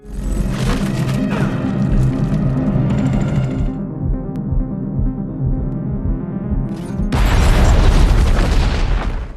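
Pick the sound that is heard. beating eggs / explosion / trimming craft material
explosion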